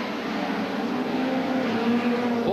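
Hot rod racing cars circling a track at a 1982 world final, a continuous loud engine roar with a droning pitch that rises near the end, heard from a distance.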